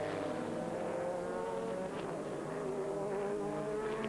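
A Ferrari GT race car in the 2002 FIA GT series runs onto the Monza front straight, its engine a steady, moderately distant droning whine with slowly shifting pitch.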